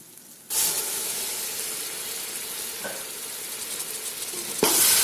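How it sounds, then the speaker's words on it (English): Ginger garlic paste sizzles and hisses steadily in hot oil, starting abruptly and continuing loud and close, with faint stirring scrapes. "Stir this mixture well and keep frying it for about 4 to 5 minutes until this is nicely fried"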